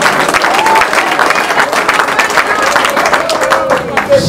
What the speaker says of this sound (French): Applaudissez encore pour notre ministre.